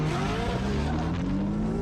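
A Porsche drift car running in tandem on track, its engine droning loudly and steadily at high revs with tire noise, no talk, close and continuous throughout.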